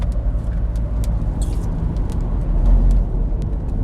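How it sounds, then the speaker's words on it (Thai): Steady low rumble of a car on the move, road and engine noise filling the clip with a slight swell near the end, no talking. "ลูซี่ขับรถจ้า"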